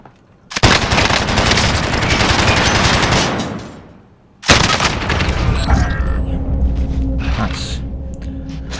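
Sustained automatic fire from a Grau assault rifle in Call of Duty: Warzone: a long, loud burst, a brief pause, then another extended burst mixed with game sounds and a distant mechanical clatter.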